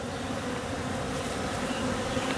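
A frenzied crowd of honey bees robbing at the seam of a beehive, producing a steady, dense buzzing drone throughout, close and even in loudness, with no voices.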